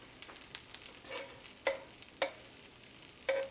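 Steak for a Philly cheesesteak fries with a steady sizzle, and a few sharp scrapes and taps of a spatula stir it on the hot surface, close by with no talk.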